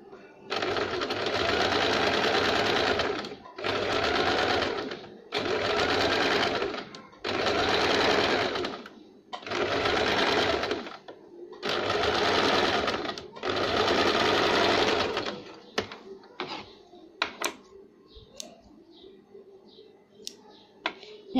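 A sewing machine stitches a pocket on a baby frock in seven bursts of rapid whirring, each a couple of seconds long with short pauses between, followed by quiet handling clicks and rustles.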